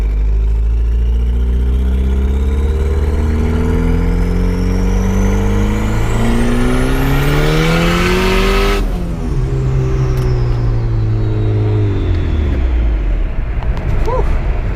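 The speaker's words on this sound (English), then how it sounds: "Freaking Hondas keep making all this noise on 22, man." Honda cars rev their engines on a street: a loud engine note climbs steadily in pitch, cuts off sharply, then drops and idles down, heard close and alone.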